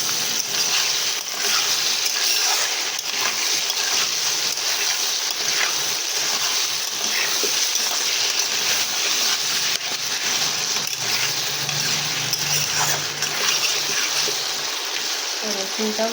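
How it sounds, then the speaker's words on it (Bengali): Potatoes and crushed garlic fry in a pan with a steady, even sizzle that carries on unbroken and fairly close for the whole stretch. "রসুনটাও দিয়ে আলুটাকে ভালো করে ভেজে নেব"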